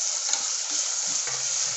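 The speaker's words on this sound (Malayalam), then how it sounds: "ഇനി ഇതിൻ്റെ കൂട്ടത്തിൽ തന്നെ നമ്മൾ കറിവേപ്പിലയും കൂടി ഇടാൻ പോവുകയാണ്" Curry leaves drop into a hot, sizzling pan while making chicken rasam, giving a steady close hiss of frying oil with faint crackles underneath.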